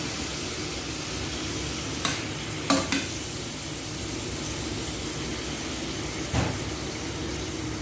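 Shrimp with bottle gourd and a little added water simmer quietly in a pan, giving a soft steady sizzle broken by a few brief scraping stirs of a utensil, with no voices.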